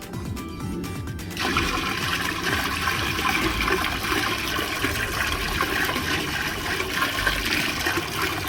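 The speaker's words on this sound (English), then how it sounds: "I'm gonna just pour that in there." Berry punch and mango fruit punch juice pours in a loud continuous gush into a container, following a brief opening rustle.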